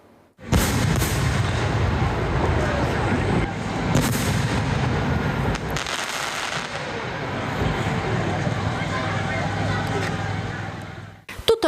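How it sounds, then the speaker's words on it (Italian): Fireworks close a traditional village festival with a dense, continuous barrage of booming bursts and crackling blasts, loud and sustained for several seconds, ending in a final flurry of sharp pops. "Tutto il paese con il naso all'insù per ammirare i fuochi d'artificio per la chiusura della tradizionale sagra"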